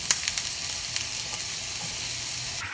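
Onions and squash fry in hot oil as a casserole filling, a steady crackling sizzle with a few quick pops and spatters near the start.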